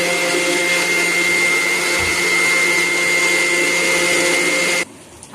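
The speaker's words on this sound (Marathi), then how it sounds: "ह्या सगळ्यांना मिक्सरमध्ये मी पहिला बारीक करून घेईन" A mixer grinder whirs loudly and steadily while grinding green chillies, ginger, garlic, coriander, onion and fresh coconut, a constant high motor whine that stops abruptly near the end.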